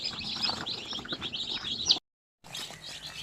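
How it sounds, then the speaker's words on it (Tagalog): Many young Basilan native chicks chirping in a dense, continuous chorus of high peeps, fairly close, with a brief silent gap before the chirping resumes. "So, dito na po yung mga sisiw, no?"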